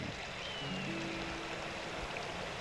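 A clear mountain creek in a valley flows with a soft, continuous rushing babble, fairly faint and steady, with a few thin tonal sounds drifting above it.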